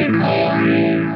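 An electric guitar runs through the phaser of a Donner Triple Threat pedal, a loud sustained chord with a sweeping, swirling whoosh that rises and falls through the tone, with no voices.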